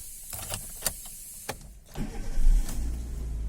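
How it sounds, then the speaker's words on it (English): Clicks and a whirring crank give way to a 2013 Chevrolet Beat petrol engine catching and settling into a low rumbling idle, close by. "as you can feel, this is the sound from the engine"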